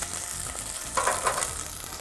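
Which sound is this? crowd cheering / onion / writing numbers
onion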